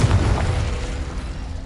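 A spell blast in Hogwarts Legacy lands as a heavy, booming burst that hits hard at the start and then rumbles and fades out over a second or so, with nothing else heard.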